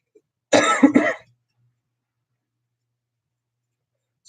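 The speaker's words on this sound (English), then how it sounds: "Sorry if I'm coughing a lot." A person gives a short pair of close throaty coughs in quick succession, then near silence follows.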